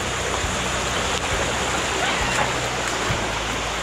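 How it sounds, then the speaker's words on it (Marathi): A waterfall stream flows steadily with a constant broadband rush of water close by, continuous throughout with no clear voices. "वरती वॉटरफॉल आपण पाहिलाच, किती छान वॉटरफॉल आहे."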